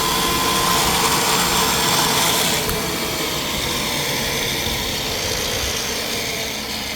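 A jute material cutting machine runs with a loud, steady motorized roar and broadband whir, slightly louder in the first seconds then holding level, close by with no talk.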